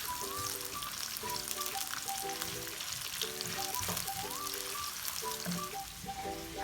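Onions frying in hot oil in a kadai, with a steady, dense sizzle and crackle held close throughout, alongside a repeating melodic music line that plays over it.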